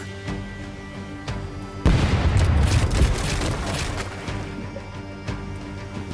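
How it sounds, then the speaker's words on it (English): Ship cannons firing in the pirate roguelite game Rogue Waters: a sudden heavy boom and crash bursts in partway through, then rumbles and splinters away over a quieter game backdrop. "Let's hear those cannons roar."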